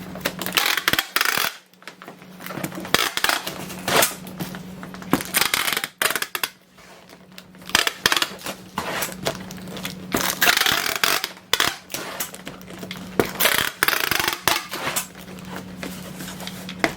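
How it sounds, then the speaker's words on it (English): Packing tape repeatedly pulled and pressed onto a handmade cardboard shipping box, close up, with crackly ripping bursts and brief pauses between strips, a steady low hum underneath. "I'm going to go ahead and tape it this way."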